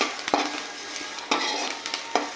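Onions frying in a pan crackle with a steady soft sizzle, while a utensil stirs them and scrapes the pan in three sharp strokes, close and without any voices.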